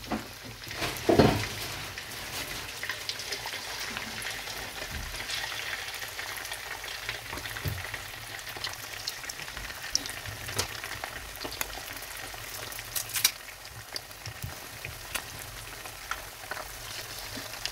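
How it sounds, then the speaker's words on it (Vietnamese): Pork ribs coated in potato starch deep-frying in a large pan of oil, a steady soft sizzle and crackle throughout with a brief louder clatter near the start as pieces go in. "vì chảo to cho nên mình bỏ vào chiên một lượt hết nha"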